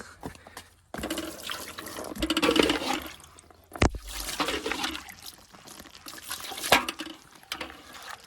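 Water is poured onto a Xiaomi Mi backpack, a loud, close, splashing gush that pauses briefly and resumes, with trickling and a sharp tap in between.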